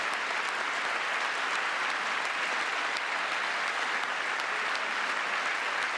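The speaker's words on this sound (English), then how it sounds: "why are they clapping after every sentence?" An audience at a political speech breaks into continuous, dense clapping that holds at an even level for the whole stretch, with no speech over it.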